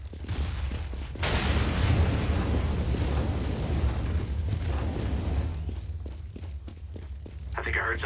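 Incendiary grenade in CS:GO, a burst of loud roaring, crackling fire that flares up suddenly and burns on for several seconds before fading under game noises and footsteps.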